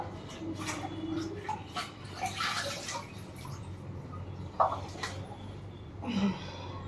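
Palak spinach is swished and rinsed in water, with soft steady sloshing and a few sharper splashes close up; faint background noise runs underneath.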